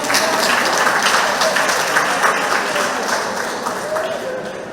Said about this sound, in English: And I need a clap for that.